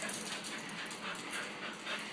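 A dog whimpers faintly amid steady hiss, the thin whining rising and falling over a couple of seconds with no clear talk.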